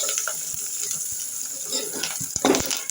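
Curry leaves and a spice mixture fry in a pan, a steady close sizzle with brief stirring clatters and a louder crackling burst near the end.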